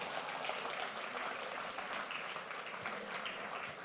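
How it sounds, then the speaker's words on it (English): Applause from an audience at a live mental-math performance, a dense steady wash of many hands clapping that holds at an even level throughout without letting up. "Give them a round of applause."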